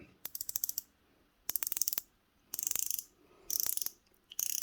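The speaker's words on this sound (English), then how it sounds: "the bezel on this, it's got a quite a nice action. I'll be quiet so that you can hear it." Quiet, crisp ratcheting clicks of an Accurist 7328 quartz diver's watch bezel turning come in short bursts of several rapid ticks, separated by brief pauses, close up with no talking.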